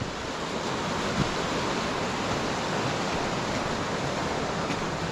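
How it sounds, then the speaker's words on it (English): Rushing water roars continuously, a dense steady wash like a fast-flowing stream, loud and unbroken. "Look how fast the water's running here."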